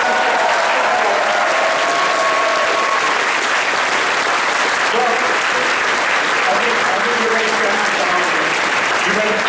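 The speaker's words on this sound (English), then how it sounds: "Let's hear a round of applause for the brilliant Shaggy." Loud, sustained crowd applause at a furry convention's opening and closing ceremony, greeting a performer on stage; thick continuous clapping with some cheering, and voices faintly audible underneath throughout.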